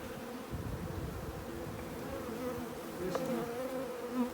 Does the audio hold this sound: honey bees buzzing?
yes